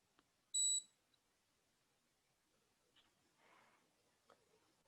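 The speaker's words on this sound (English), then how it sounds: "you will hear a beep beep sound. So you now know that the galvanic spa is working" A galvanic spa facial device gives one loud, short high-pitched electronic beep, followed by faint handling clicks and soft rustling.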